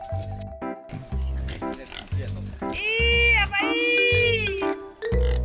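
Pigs grunt and oink in short bursts at feeding time in a hill village of the Lahu people in northern Thailand, with a voice calling over them and pig-feed of chopped banana tree being prepared.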